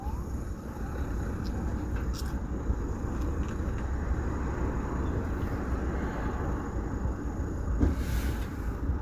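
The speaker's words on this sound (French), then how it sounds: "je mets le contact" Car engine idling steadily after the ignition is switched on, a constant low rumble with faint wind noise and no talk.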